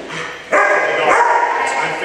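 A dog barks and yips during bite-sleeve training, with a sharp burst partway through followed by continued vocal noise while a person talks nearby.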